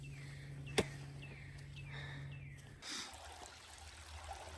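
A faint stream of water flows at a trail water source along the Appalachian Trail in Connecticut, a soft, steady trickle heard quietly in the open outdoors.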